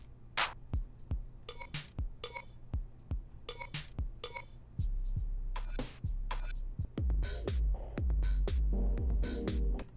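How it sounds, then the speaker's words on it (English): Drum kit sounds are auditioned one after another in Ableton Live, as short separate hits of kicks, snares and cymbal-like clinks. Later in the run a low sustained tone sits beneath the hits. "It's actually just a preview of the different sounds that are available to you inside of this kit."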